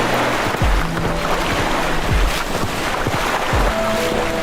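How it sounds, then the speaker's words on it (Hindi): Ocean waves wash onto a beach at night, a steady broadband surf roar with a few low rumbling swells building and breaking, heard alone with no talk. "समुद्र की लहरों की हल्की आवाज के अलावा कोई और हलचल नहीं थी"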